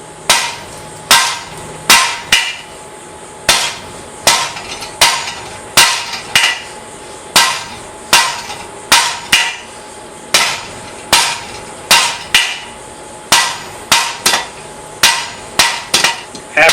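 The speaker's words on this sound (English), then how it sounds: "Now I'll go ahead and do another taper on this." Hot metal being hammered on an anvil while forging a taper at a blacksmith's forge, loud close ringing strikes in a steady rhythm, often in quick pairs, around twenty blows in all.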